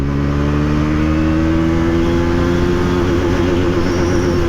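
A Bajaj Pulsar NS400Z motorcycle revs hard and loud, its engine note climbing steadily through a gear as it accelerates, with continuous wind rush and no talk.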